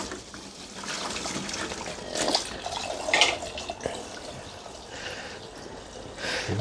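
Cold tap water runs over eggs in a home kitchen, a continuous trickling splash with a few louder gushes, moderately close.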